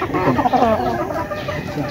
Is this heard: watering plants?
no